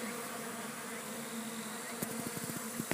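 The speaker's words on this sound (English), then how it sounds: "This is varroa mite-free bees." Varroa mite-free honeybees hum steadily around an open hive with larvae, a continuous buzzing drone with a few sharper passes near the end, no voices.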